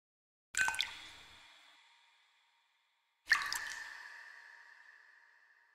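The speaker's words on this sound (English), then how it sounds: "the show starts with silence, which leads into the sound of water dripping with heavy reverb" Two single water drips land a few seconds apart in silence. Each strikes sharply and then rings out in a long, heavy reverberant tail, as if in a vast empty space.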